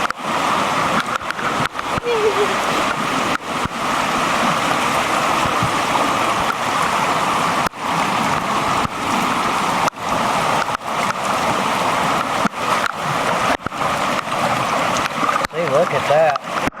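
High, fast-flowing creek rushing steadily under a bridge after heavy rain, with a loud, continuous broadband wash throughout and a voice speaking briefly over it near the end.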